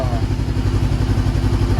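A salvage auction motorcycle that would not crank or start runs after starting. The engine gives a steady, loud, close idle pulse throughout.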